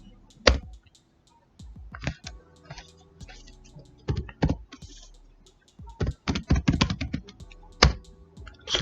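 Keys clatter on a computer keyboard as Python code is typed, in irregular bursts of close clicks separated by brief pauses.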